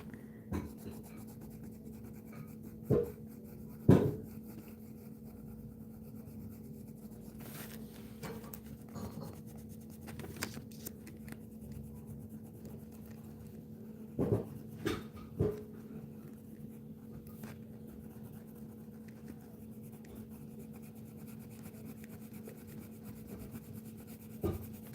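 Dark brown ink marker stroking across paper while coloring a drawing, a soft, steady scratchy rubbing with a few sharper taps and clicks from the pen, close and quiet.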